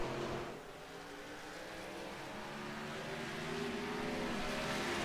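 Race cars of the USRC Grand National Series lapping Watkins Glen: a sustained, fairly distant engine drone with layered tones that slowly builds in loudness, with no talk over it.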